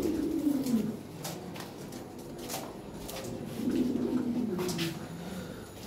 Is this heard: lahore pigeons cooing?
yes